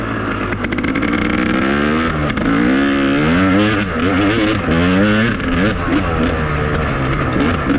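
A KTM 300 motorcycle engine revs close up under smooth throttle, its loud, continuous note rising and falling in repeated sweeps.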